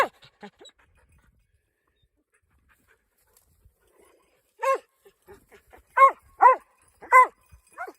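A dog pants in quick, close bursts after a quiet stretch, with a few soft huffs and breaths scattered around.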